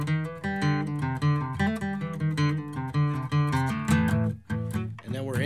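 An acoustic guitar plays a song intro, with ringing strummed chords and single-note lines, heard close and steady with no talking.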